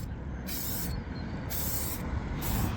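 Clear coat sprays onto car headlights in three hissing aerosol bursts with short pauses between, close and fairly quiet over a low background rumble.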